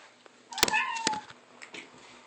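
A house cat lets out a single clear meow, close and fairly loud, its drawn-out call sliding down in pitch, with a faint quieter sound following over a low room hush.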